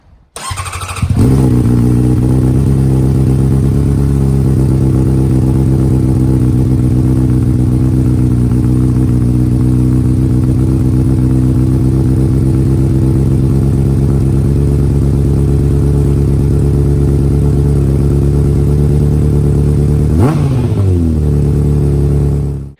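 A 2009 Honda CBR600RR motorcycle with a Yoshimura exhaust starts up and idles loudly and close for a long stretch, then gets one sharp rev near the end before the engine cuts off.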